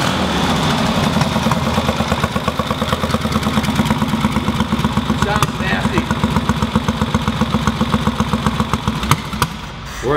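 A rebuilt 1965 Triumph Bonneville chopper motorcycle idles indoors, its close, loud engine beating in a steady rapid pulse throughout, with a slight rev near the end.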